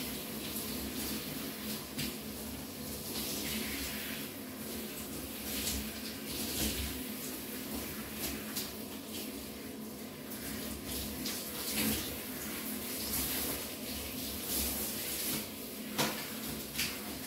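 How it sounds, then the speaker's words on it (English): Water rinsing freshly washed hair, a steady close splashing and pouring wash that runs the whole time with faint knocks, and no talking. "Okay, gonna rinse it."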